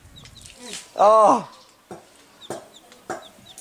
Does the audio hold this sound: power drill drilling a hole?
no